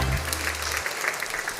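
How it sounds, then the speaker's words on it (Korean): Adult congregation clapping in a church praise session during an adult Bible school, steady dense applause filling the room after a fast worship song, with a low musical tone fading out early. "박수."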